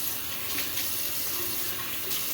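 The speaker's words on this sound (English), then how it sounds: "So let me wet my face." Tap water runs steadily into a sink before a wet shave with a badger brush, a continuous close splashing stream with no talk.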